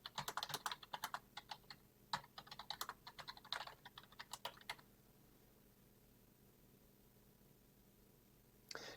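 Quiet, close keyboard typing: a quick burst of key clicks for about five seconds, then near silence, with one last faint tap at the end while an email address and master password are entered.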